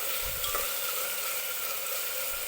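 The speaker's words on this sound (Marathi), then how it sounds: "त्यासाठी टोमॅटो व्यवस्थित तेलामध्ये भाजून घ्यायचा." Tomato fries in hot oil in a pan, a steady, dense sizzling hiss throughout with a few soft stirring bumps near the start, no voices.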